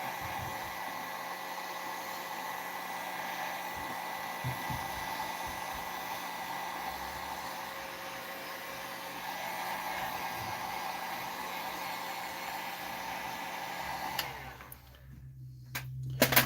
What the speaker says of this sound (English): take the hair heat gun. I use it on the low setting so I don't have to worry about melting the plastic.